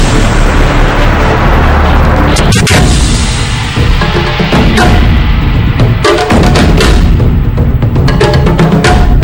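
Explosive detonations go off during the Chavín de Huántar hostage rescue at a residence, a loud, dense roar of blasts and gunfire that fills the whole stretch without a pause.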